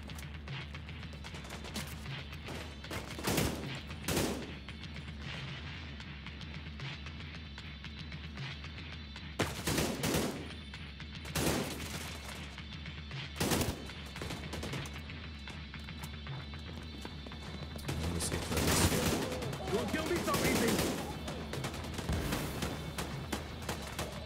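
Bursts of gunfire from a gun in The Division 2, loud repeated volleys spaced across the stretch, alone with no talk over a steady game ambience.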